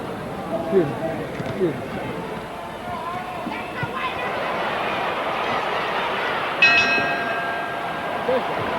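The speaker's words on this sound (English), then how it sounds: "And the bell sounds, ending round 11" At a Muhammad Ali versus Jimmy Ellis boxing match, the ring bell clangs sharply to end round 11, a bright ringing strike cutting through the arena crowd noise while a commentator talks.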